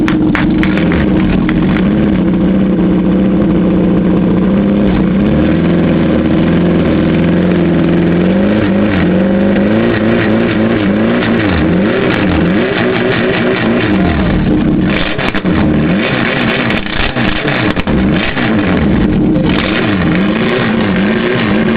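A car engine runs loud and close, idling roughly and then revving repeatedly in rising and falling sweeps, pushed hard to try for backfires, with no talking over it.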